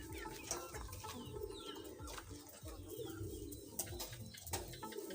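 A young pigeon coos softly in repeated low, throaty phrases, fairly faint and steady against light background noise, with no voices present.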